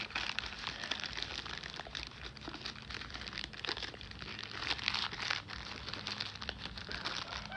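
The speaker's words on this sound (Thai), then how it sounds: "หลังจากที่เราแกะออกมาจากถุงแล้วนะครับ" A Tenda A9 Wi-Fi repeater being unwrapped from a plastic bag, with steady crinkling and rustling of plastic, close up and continuous, no talking.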